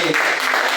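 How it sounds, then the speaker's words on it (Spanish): A church congregation bursts into applause, a dense, loud wash of clapping heard briefly and close. "Un fuerte aplauso"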